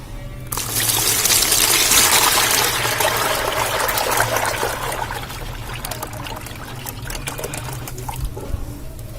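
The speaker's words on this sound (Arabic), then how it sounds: "هحط كميه اللبن" Milk being poured steadily into a container while making Egyptian farmhouse mish cheese, a continuous close liquid stream that is loudest early and eases to a softer trickle toward the end, with no talking.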